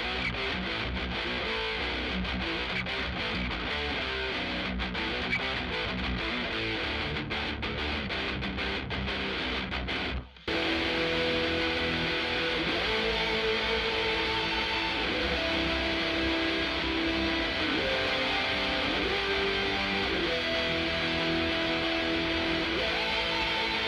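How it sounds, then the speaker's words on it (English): A heavily distorted metal rhythm guitar plays through a speaker cabinet, picked up by a tube condenser microphone that gives a thick, saturated midrange tone. It chugs dense and continuous for the whole stretch, with one brief stop about halfway. "it's got a big kind of mid-rangey kind of saturated tone, and that's the tubes inside the microphone adding to the tone"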